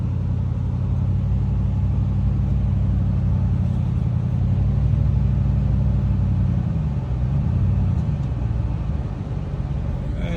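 A vehicle engine pulling a trailer rumbles steadily at close range, a low continuous drone with slight shifts in pitch as it moves.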